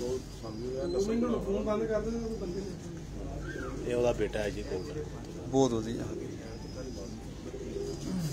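Pigeons at a bird market coo in soft repeated bursts beneath steady nearby male conversation, the calls blending into the chatter and background bustle.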